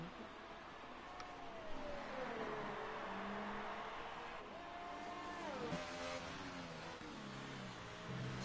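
Race cars in the Monaco round of a racing video game, a McLaren closing in, roar past with rising and falling engine pitch and revving, steady and fairly loud throughout.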